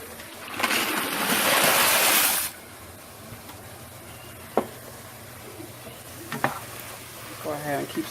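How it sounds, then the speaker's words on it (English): Chicken sizzles and fries loudly in a pan for a couple of seconds, then it drops to a quiet background with a few sharp clanks and scrapes of stirring. "Go ahead and keep stirring our chicken."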